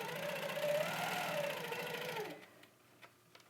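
Sewing machine stitching a few short tacking stitches: a steady, fast mechanical whirring hum for about two seconds, then it stops, followed by a few faint ticks and clicks.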